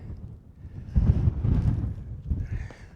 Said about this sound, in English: Like I said, got a bit of wind